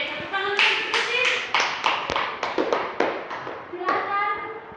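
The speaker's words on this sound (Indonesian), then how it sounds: "tepuk tangan untuk Christine" Applause for a child named Christine at a church lesson on the resurrection of Jesus: a small group claps in uneven bursts, with a few voices over it.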